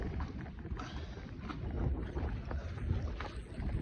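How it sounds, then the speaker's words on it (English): A sailboat's jib flaps hard in the wind while the boat sails upwind with all sails up, producing a steady close rush of wind noise broken by irregular fluttering bursts. "You can hear the jib flapping like crazy"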